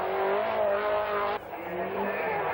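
Two Audi Quattro rally cars racing on the 1981 RAC Rally, a loud continuous engine roar with a pitch that shifts as they pass, broken by an abrupt cut partway through before the engine noise resumes.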